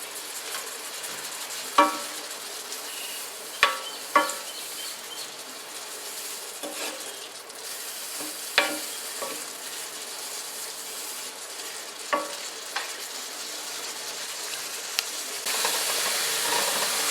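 Cottage pie filling with potatoes hisses gently in a skillet, a soft steady sizzle punctuated by a handful of sharp clicks and taps, quiet and close.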